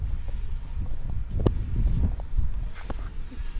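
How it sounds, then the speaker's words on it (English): Gusty wind buffets a microphone outdoors at a T10 cricket match in Vanuatu, a steady low rumble with surging loud bursts throughout, with faint voices in the background. "It's windy."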